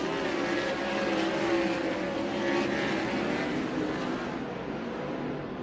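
360 wing sprint cars racing on a wide dirt oval at night at Central Arizona Raceway, a continuous loud roar of several engines blending and swelling as cars pass, heard from trackside without commentary.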